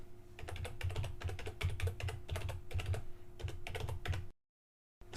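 Rapid typing on a computer keyboard, close and steady, with a quick run of keystrokes that stops abruptly into silence near the end.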